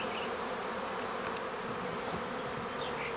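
A swarm of bees arriving at a new hive outdoors, a steady dense buzzing drone that holds at an even, moderate level throughout with no voices.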